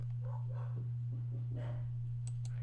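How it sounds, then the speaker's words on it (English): Dogs barking and yipping inside a house, faint and distant behind a steady electrical hum, with a few short yelps near the end. "my dogs are yelling at me. My dogs are yelling."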